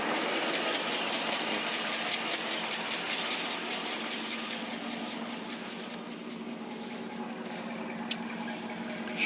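A car engine idles steadily after its first crank in more than two months, a rough, even running note heard at moderate distance with no speech, broken by a faint click near the end.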